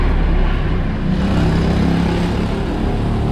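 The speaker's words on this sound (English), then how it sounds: "There goes a truck." A heavy truck rumbles past nearby at a subdivision entrance in Dumaguete City, Philippines, a steady low broadband roar that holds for a few seconds with no voices.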